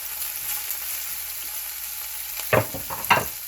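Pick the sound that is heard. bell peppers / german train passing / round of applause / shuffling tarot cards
bell peppers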